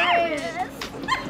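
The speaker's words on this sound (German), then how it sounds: "Der ist so süß, der Hund." A small dog whimpers and yips in a few short, high-pitched bursts, close by and fairly clear, with light background noise.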